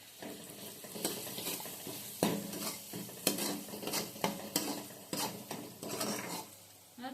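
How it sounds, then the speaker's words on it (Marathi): Soft-fried onion stirred in a pan with added salt and turmeric for a cabbage and potato dish: steady scraping and clinking of a spoon against the pan over a light sizzle, close and continuous. "आता जो कांदा आहे हा मऊसूद फ्राय झालेला आहे तर त्याच्यामध्ये मी मीठ आणि हळद टाकून घेते"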